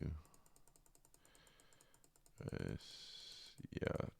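Typing on a computer keyboard, with steady quiet key taps throughout and louder bursts of clicking toward the end.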